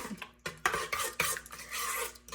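Sugared sliced strawberries are stirred in a bowl, with several close, sharp clinks and scrapes of a spoon against the dish in an uneven rhythm and no talking.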